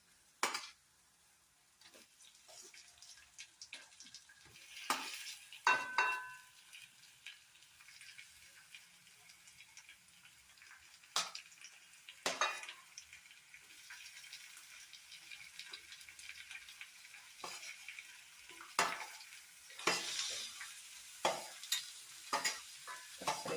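Tomatoes with sautéed onions fry softly in a pan, a quiet background sizzle broken by repeated sharp scrapes and clinks of a stirring spoon against the metal.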